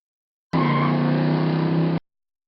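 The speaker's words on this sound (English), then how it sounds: "Truck." A truck engine sounds in a short isolated burst of about one and a half seconds. It starts and stops abruptly and holds a loud, steady motor rumble with tonal whine between silent gaps.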